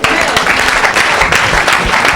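A crowd claps steadily at a church service, loud and continuous applause filling the space with dense overlapping hand claps.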